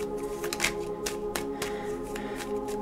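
Tarot cards shuffled by hand, a quick series of crisp riffling flicks and soft slaps at an uneven rhythm, close and fairly quiet over a faint steady background hum.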